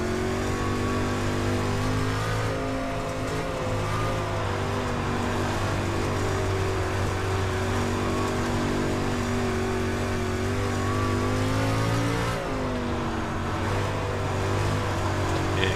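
Street stock car engine in iRacing at Volusia Speedway Park: a loud, steady droning roar held throughout, with a brief dip and shift in pitch near the end as the car changes speed.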